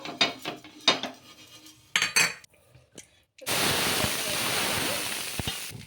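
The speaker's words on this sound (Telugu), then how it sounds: "ఇక్కడైతే పెన్నం అయితే వేడెక్కింది దోశ అయితే వేసేసుకుందాం ఇప్పుడు" Dosa batter sizzling as it spreads over a hot pan, a loud, steady hiss that rises suddenly after several clinks of a ladle and utensils, continuing for a few seconds.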